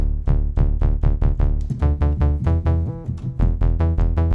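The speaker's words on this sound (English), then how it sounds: "The first one that I added was a bass." A deep synth bass plays a steady rhythmic line of punchy repeated notes, loud and alone, shifting pitch partway through.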